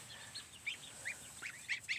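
Geese give several short, nasal honks in loose succession, moderately close, over a faint steady background hiss with no talk.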